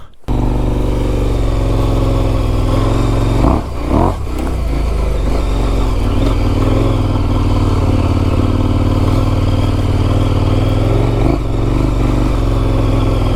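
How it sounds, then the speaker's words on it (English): A big adventure motorcycle rides along with a steady, loud engine drone close up, a brief dip and clattering bump partway through, then the engine carries on evenly. "Just on a little adventure on the big old bike."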